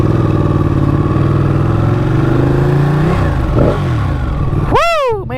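A Ducati Panigale motorcycle engine runs loud and close, pitch climbing steadily under acceleration, then dipping and surging again in quick sharp revs at the end.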